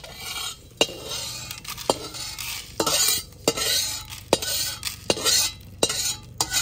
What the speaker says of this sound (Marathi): हे मसाले कोरडेच भाजायचे आहेत आपल्याला।